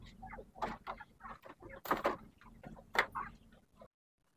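Shamo gamecocks cluck in short, irregular bursts close by over a low hum, then fall silent.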